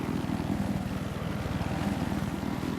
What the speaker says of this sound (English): This is the Scout class of helicopter. This is the Little Bird for the US faction.